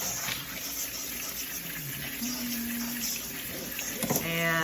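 Cold tap water runs over freshly boiled potatoes in a sink, a soft continuous splashing rush that stays fairly quiet and swells slightly near the end.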